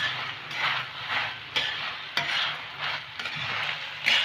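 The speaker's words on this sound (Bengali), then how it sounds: "আমি সয়াগুলোকে ভেজে রেখেছিলাম, সেগুলোকে আমি এবার দিলাম। দিয়ে আমি 20 থেকে 30 সেকেন্ডের মতো ভেজে নেব।" Pre-fried soya chunks frying in a pan on high flame for dry chili soya, stirred in repeated scraping sweeps with sharp clacks of utensil on pan over a soft sizzle.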